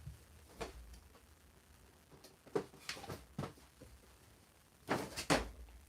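A toy action figure horse from a Masterverse line knocked over on a tabletop, giving a few sharp plastic clatters and knocks spread across a quiet room, with a louder double clack near the end.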